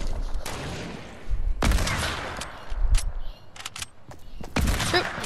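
Gunfire in the Fortnite video game, several bursts of rapid shots in separate volleys, loud and close, with short pauses between them.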